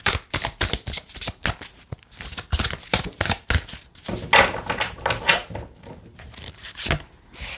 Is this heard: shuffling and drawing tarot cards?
yes